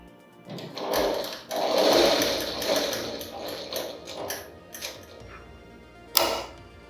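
A sewing machine runs in bursts while stitching along a fabric edge, its rapid mechanical chatter starting and stopping close by, with a sharp click near the end.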